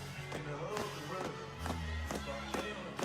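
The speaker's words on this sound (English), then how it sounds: "you hear that stomp?" A dance team's feet stomp in unison during a routine at a game. Several heavy, evenly spaced thuds ring out in a large space, with a commentator talking over them.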